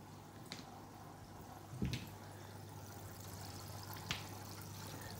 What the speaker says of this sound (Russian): Я сейчас буду промывать грунт